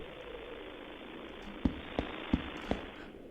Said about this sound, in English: Those have got to be fireworks.